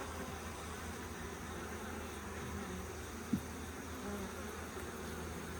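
Agitated honeybees swarm around an open hive during an August split in North Carolina, a steady dense buzzing hum filling the air with one brief sharp knock partway through.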